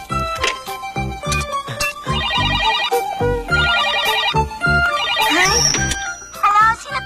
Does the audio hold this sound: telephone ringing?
yes